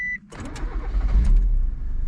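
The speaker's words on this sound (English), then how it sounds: "he's gonna let me drive the car" A Honda Civic sedan's engine cranks and catches after a short beep, then settles into a steady idle close by.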